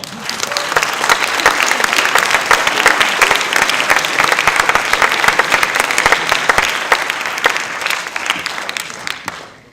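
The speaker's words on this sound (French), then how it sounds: "Ils sont l'extraordinaire énergie du festival et méritent vos applaudissements." Dense, sustained audience applause at a festival opening ceremony in a theatre, thanking the volunteers, steady and loud for nearly ten seconds before cutting off abruptly at the end.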